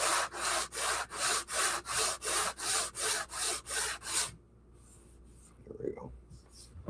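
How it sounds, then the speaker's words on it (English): A block sander rasps back and forth over a puttied patch on a model railroad layout in about a dozen quick, even strokes, then stops, leaving only faint handling sounds and a brief murmur. "It's always good to have a block sander."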